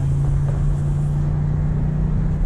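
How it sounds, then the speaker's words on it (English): A BMW M8 850i V8 exhaust drones as the engine revs, a loud continuous low growl heard from close by without pause. "The exhaust."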